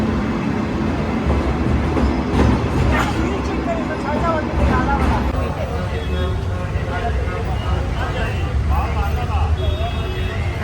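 A moving train near Vapi rumbles steadily with rhythmic rattling, heard from inside a carriage, while voices talk over the noise.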